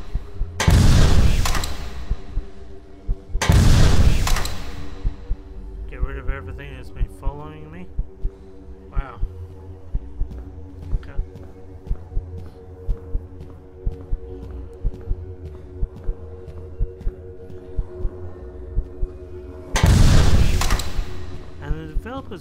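Three heavy, punchy gun blasts from a video game boom out loudly, two close together early and one much later, each ringing off, with a voice talking in the quieter stretch between them.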